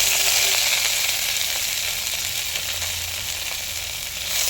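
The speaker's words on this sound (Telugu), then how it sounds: "నూనె వేడెక్కిందంటే పుదీనా వేసి వేసుకుందాం" Mint leaves fry in half a spoon of hot oil in a vessel, a loud, continuous crackling sizzle filling the whole stretch with no voices.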